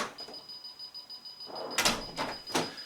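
A house door is opened with a thin alarm beep tone sounding in the background. There are two or three close, bright clunks and rattles of the latch and door moving, and no voices.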